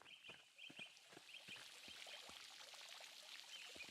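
Water drawn and poured in the video game Pentiment, a faint splashing pour with scattered drips and trickles against a hissy background, quiet and without talk.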